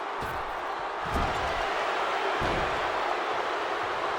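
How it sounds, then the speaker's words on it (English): Loud, steady roar from a wrestling arena crowd in the WWE 2K25 video game during the Clash at the Castle event in Scotland, a dense wall of cheering that swells briefly around the middle. "the roar of the crowd, and they are on a whole nother level right now"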